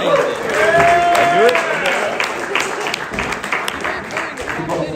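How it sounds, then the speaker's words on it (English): Audience at a stand-up comedy show clapping and cheering for a comedian, loud at first and gradually thinning, with voices shouting and talking over the applause. "Give a big round of applause"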